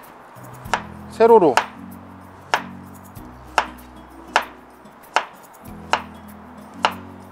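A knife chops potato on a cutting board with crisp, evenly spaced thuds, about eight in all, with a brief scrape near the start and a short spoken word partway through.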